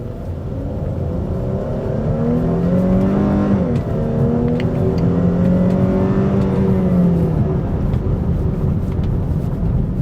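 A Lexus NX200t engine revs up as the car accelerates, a loud, close interior drone rising in pitch over several seconds, then holding a steady, strained whine.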